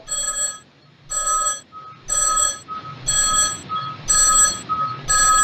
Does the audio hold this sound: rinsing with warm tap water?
no